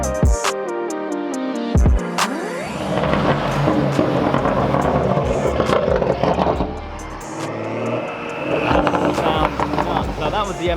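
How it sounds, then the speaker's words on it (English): A race-prepped BMW M2 passing by on the street in Monaco, its engine rising loudly and then sweeping away under a busy mix of other traffic and voices. "That was the M2 that I showed you earlier on, the race prepped one."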